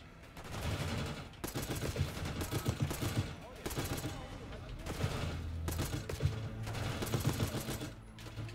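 Rapid automatic gunfire rattles in bursts during a Call of Duty Black Ops 6 match, dense and continuous over a low game rumble, with a player talking now and then.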